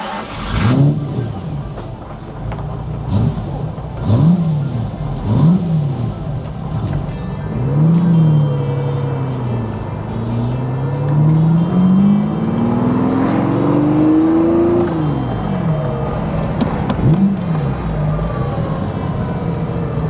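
A 400 bhp restomod Jaguar E-type engine pulls hard through the gears, rising and falling revs with each shift, loud and close with no talking.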